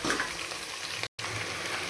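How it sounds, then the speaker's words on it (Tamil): Cooking water drains from boiled lentils in a home kitchen while radish and drumstick sambar is being made, a continuous close splashing pour with one brief break. "பருப்பில் இருந்து தண்ணியை ஊற்றிட்டு இருக்கேன்."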